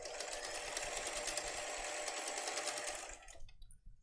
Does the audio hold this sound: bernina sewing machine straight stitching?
yes